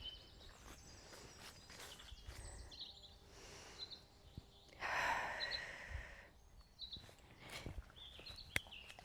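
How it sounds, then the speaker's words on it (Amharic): Small birds near a forest beside a rural Ethiopian family home chirp in faint, scattered high tweets, with brief rustles and a louder burst of movement midway, all quiet and somewhat distant. "ወፎች እንደዚህ ሲጮው አያምርም?"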